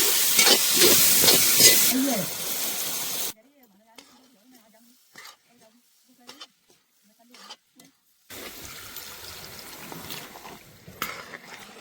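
Peas sizzle and are stirred into a hot tomato-onion tempering in a home kitchen. A loud frying hiss comes first, then a quieter stretch with faint stirring sounds, before the sizzle returns.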